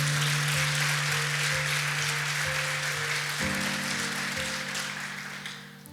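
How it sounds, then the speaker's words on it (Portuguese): A church congregation applauds during a sermon, a broad wash of clapping over a sustained organ or keyboard chord that shifts midway, fading toward the end. "Se você crê nisso, aplauda Jesus bem forte."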